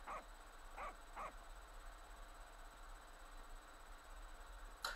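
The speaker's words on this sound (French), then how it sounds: "Il a un chien. Il a un chien." A dog barks in a horror video game, three quick moderate barks early on, then quiet ambience and one more bark at the very end.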